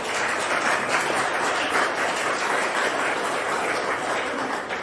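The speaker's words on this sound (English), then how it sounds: "Could we just take a round of applause for their extra work?" Congregation applause during a church worship service, a dense, even wash of many hands clapping at steady volume for several seconds with no speech over it.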